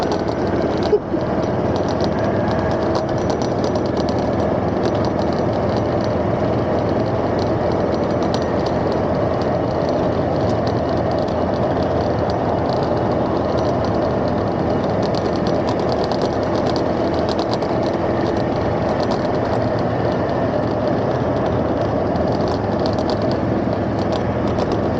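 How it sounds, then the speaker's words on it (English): A golf cart driving around Catalina Island, its motor giving a steady, continuous hum and rattle throughout, close and unbroken, with faint wind noise. "Got our golf cart, and now we're going around the island."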